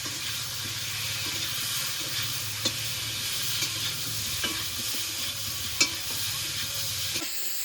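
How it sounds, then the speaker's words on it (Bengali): Potatoes fried with dried red chili paste and turmeric in a pan, a steady close hissing sizzle with light intermittent stirring knocks and scrapes, no voices. "এবার নেড়ে চেড়ে আলুটাকে মশলার সঙ্গে কষিয়ে নেব"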